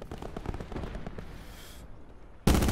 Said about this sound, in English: there's gunshots coming this way